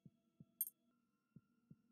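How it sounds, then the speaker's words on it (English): Heartbeat sound effect from a horror video game about a creepy neighbour: two pairs of low, thudding lub-dub beats over a faint steady hum, with a brief high hiss in between, no talking. "They had to add the heartbeat, didn't they?"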